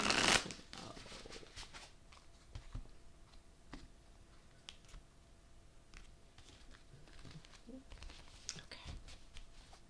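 Tarot cards are shuffled in a quiet room, a loud riffle burst at the start followed by scattered soft ticks, flicks and card slaps that continue quietly throughout.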